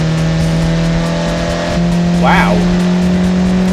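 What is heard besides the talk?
F1 car with 1.9 TDI engine accelerating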